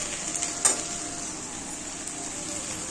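Okra and onion frying in a pan, a steady loud hissing sizzle that continues throughout, with a faint clink of stirring near the start.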